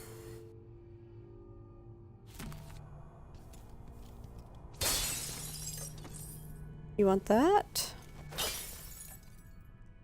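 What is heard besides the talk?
glass breaking in the video game Dishonored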